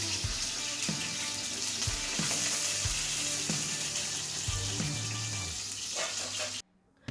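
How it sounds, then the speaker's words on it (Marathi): Potatoes frying in oil or ghee in a pan for sabudana khichdi, a continuous close sizzle with a few soft clunks of stirring, ending in a brief cut to near silence. "त्याच्यात तुम्ही बटाटा फ्राय करून घ्या"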